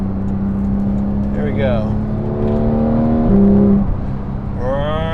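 Porsche 911 GT3 991.2 engine revving up through the gears with a clear upshift, rising whine close and loud beneath a man's brief spoken remark.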